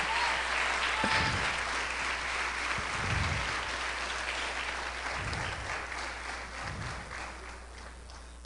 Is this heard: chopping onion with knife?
no